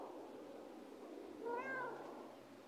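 A cat gives a single drawn-out meow of about half a second, fairly close, over a steady background hiss.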